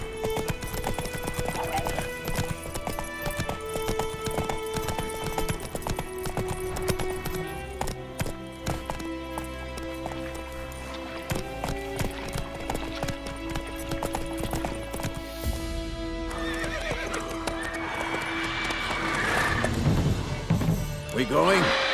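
Horse hooves clip-clopping at a steady gallop in The Witcher 3 on PlayStation 5, loud and continuous under a dense game score, with voices talking over it and a brief whinny possible near the end.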